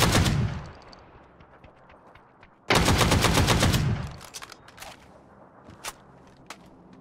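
In the video game PUBG, a powerful gun fires with a sharp report, then a rapid burst of loud shots follows, with scattered fainter shots and echoes trailing after.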